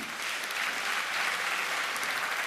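Sustained audience applause at a comedy concert in Svishtov, a dense, even wash of clapping from a crowd, steady and continuous throughout.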